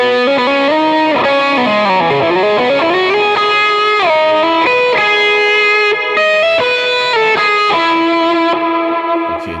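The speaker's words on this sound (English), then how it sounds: "I want to just have the boost into my Timmy" An electric guitar lead runs a boost into a Timmy overdrive model on a Quad Cortex, playing a singing melodic line with pitch bends and sustained notes, loud and continuous with no speech.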